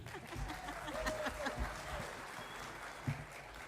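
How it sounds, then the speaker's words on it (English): A small conference audience gives quiet, scattered applause from a distance, fairly faint, with a few chuckles and a stray louder clap near the end. "let's give her a big clap"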